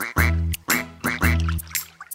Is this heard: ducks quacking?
yes